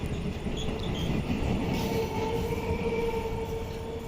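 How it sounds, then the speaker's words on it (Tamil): A South Indian Railway local passenger train on the Chennai–Chengalpattu line rumbles steadily past with a continuous mechanical roar and faint high wheel squeal, loud and close throughout, with no voices. "இந்த local train speciality south Indian railway"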